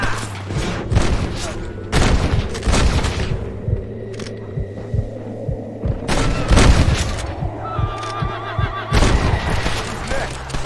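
Gunfire in a Red Dead Redemption shootout: sharp booming shots burst out at intervals over horse whinnies and hoofbeats, with game voices talking between them.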